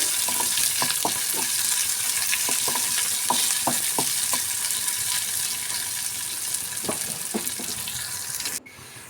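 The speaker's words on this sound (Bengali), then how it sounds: "পেঁয়াজটাকে দিয়ে ফোড়নের সঙ্গে একটু ভালো করে লাল লাল করে ভেজে নেব" Onions fry in oil with tempering spices, a continuous close sizzle punctuated by scattered spoon taps and scrapes, before the sound cuts off abruptly near the end.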